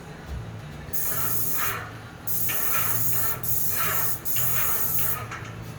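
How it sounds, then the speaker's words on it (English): An airless spray gun applying Renner wood coating to cabinet face frames on site bursts on and off in a series of sustained hissing passes, separated by short pauses, close and loud. "So I always try to be careful when I spray into that corner"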